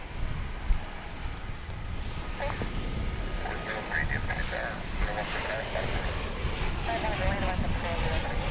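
A nine-year-old Boeing 747-8 freighter departing Dallas/Fort Worth airport for Luxembourg, a steady distant jet roar that builds slowly over the whole stretch, with ambient chatter and bird-like calls nearby.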